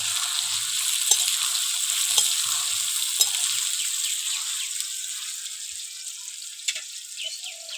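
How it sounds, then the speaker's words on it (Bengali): Nol fruit sizzles and fries in hot oil for a homemade pickle, a steady close crackling hiss with a few sharp pops and faint stirring clatter, gradually settling slightly quieter. "এবার নোলগুলো ঢেলে দেবো তেলের মধ্যে।"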